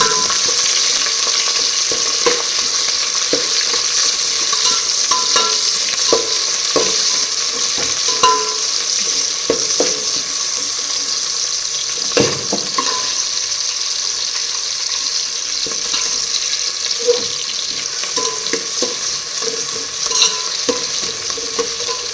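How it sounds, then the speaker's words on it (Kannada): Thick-cut onions frying in a cooking pot for pulao, a loud continuous sizzle with frequent scraping stirs and spoon knocks against the metal, close up and without speech. "ಎರಡು ಈರುಳ್ಳಿ ಕಟ್ ಮಾಡ್ಕೊಂಡು ದಪ್ಪ ಈಗ ಚೆನ್ನಾಗಿ ಫ್ರೈ ಮಾಡಿ"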